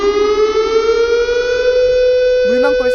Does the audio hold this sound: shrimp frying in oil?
no